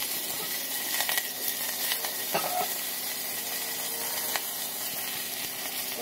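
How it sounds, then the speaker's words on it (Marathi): Fenugreek seeds, mustard seeds, curry leaves and dried red chillies sizzle in hot oil for tempering, a steady close hiss with faint crackles and pops throughout. "सर्वात पहिले आपण फोडणीची तयारी करूया गाईस"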